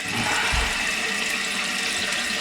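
A toilet supply hose sprays water in a loud, hissing rush, starting with a sudden burst and staying constant and close for a couple of seconds.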